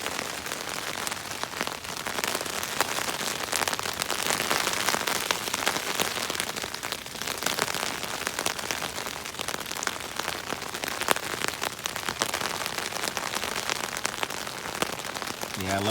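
Rain falls on an REI Quarter Dome SL1 tent with a silnylon fly, a dense, steady patter of drops drumming on the fabric overhead, close and continuous throughout.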